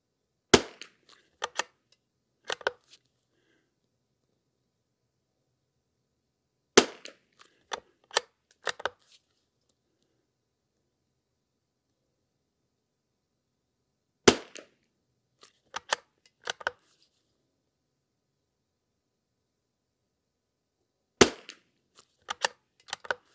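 A .22LR rifle fires at an outdoor shooting range, sharp cracks coming in short clusters of two or three, each followed by faint clicks and clatter, with long quiet gaps between groups.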